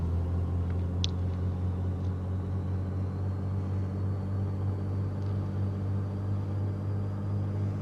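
Twin piston engines of a Beechcraft Baron in Microsoft Flight Simulator 2024 running up steadily on the ground, a constant droning hum with a faint rising whine and no one speaking.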